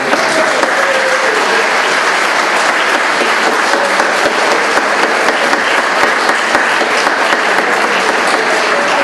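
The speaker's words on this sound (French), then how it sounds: "on devrait les applaudir, ces madames-là" Applause from the audience at the inauguration of the Knights of Columbus hall in Lyster, honoring the women; dense, steady clapping from a crowd fills the room at an even loudness throughout.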